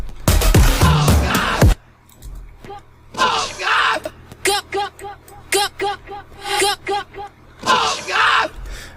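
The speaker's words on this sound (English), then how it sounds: "A bunch of these screams and other strange noise, like vocal samples, are samples out of movies." Screams, yells and strange vocal samples lifted from movies, fired in short bursts: a dense loud scream burst opens, then a run of rhythmic clipped shouting hits and a final loud yelp, all prominent and without normal talk.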